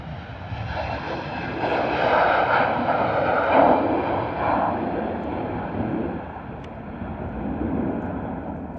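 A Titan Airways Airbus A321 jet rolls out for takeoff at London Stansted Airport, its engines building into a loud, steady roar that swells and holds across the whole stretch, broad and rumbling with no voices over it.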